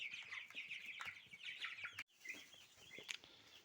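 Cobb broiler chickens in a cage cluck and chirp softly and continuously, several birds at close range in a quiet setting, with one short break midway.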